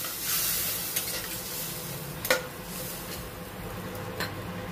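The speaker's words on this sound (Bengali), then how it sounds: "দিয়ে ভালো করে আবার নাড়াচাড়া করব" Masala with yogurt, cashew and poppy seed paste is stirred in a hot pan, giving a continuous sizzle with a few sharp spoon scrapes and taps against the pan.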